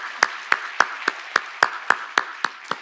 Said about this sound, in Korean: 우리를 그렇게 부르시고 인도하실 우리 주님께 큰 감사와 찬양의 박수 올려드립니다